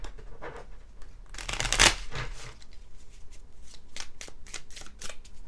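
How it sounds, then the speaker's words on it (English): A large tarot deck is riffle shuffled close by, giving a loud burst of fluttering card snaps around two seconds in, followed by lighter shuffling and flicking of cards. "I do a quick overhand like this. And then I kind of cut it in half, give it a good riffle."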